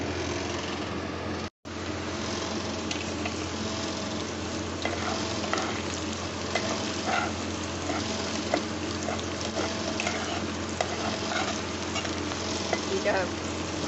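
Mutton and potato curry base fries steadily in a pan, a continuous close sizzle with small crackles and occasional spoon scrapes, dipping out for a moment near the start before carrying on evenly.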